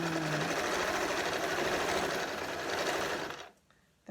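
A Morse sewing machine stitches fabric at a short stitch length with a fast, even mechanical chatter, loud and close, running about three seconds before stopping.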